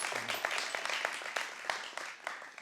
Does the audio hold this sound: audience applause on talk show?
yes